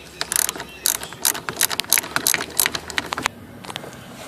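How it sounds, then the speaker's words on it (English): A 10mm socket ratchet wrench clicks in quick bursts as it loosens the battery cables on a 1997 Nissan pickup, close and sharp, then stops abruptly near the end. "I'm using a 10mm socket wrench for this."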